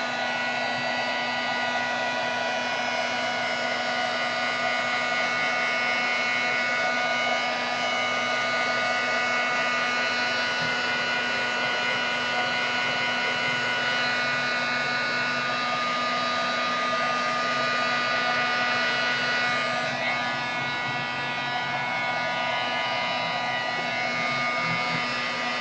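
Hair dryer blowing on wet paint in a mixed media art book, a loud, steady whirring hum that holds for the whole stretch, shifting slightly as the book is tilted.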